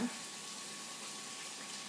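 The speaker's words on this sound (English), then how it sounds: "I'm gonna start my water again." Tap water runs steadily into a kitchen sink while chocolate frosting is being made, a constant broadband rush that holds alone at even level throughout.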